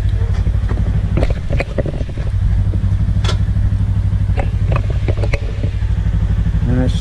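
Motorcycle engine idling and rumbling close by as a rider pulls in out front at the end of a day's ride to Gayndah, a steady low drone with light clatter over it.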